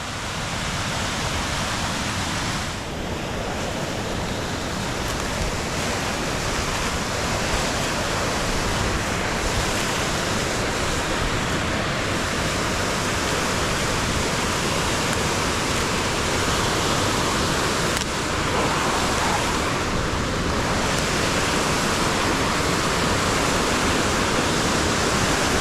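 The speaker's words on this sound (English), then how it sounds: "here's Toby Run flowing" Toby Run waterfall pours heavily after historic rains, a loud, dense, continuous roar of rushing water heard close up for the whole stretch with no talking.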